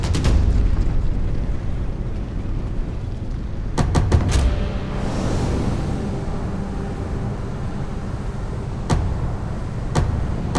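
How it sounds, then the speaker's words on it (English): A dense, rumbling roar of combat in the video game Massive Chalice, with exploding flasks giving several sharp bursts and pops, a few loud booms standing out over continuous noise. "they make up for it with their nasty exploding flasks"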